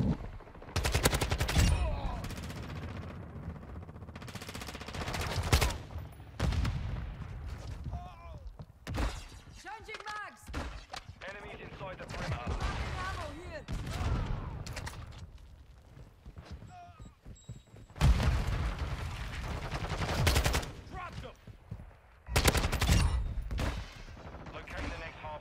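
Kastov 545 rifle firing in the video game Modern Warfare 2, with rapid bursts of automatic gunfire in several volleys alongside other game effects, while a player talks over them.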